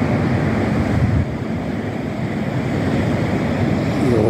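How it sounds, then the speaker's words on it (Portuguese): Rough sea surf washes onto the shore in a continuous loud roar, with wind buffeting the microphone and no voices. "E hoje o mar tá mais bravo."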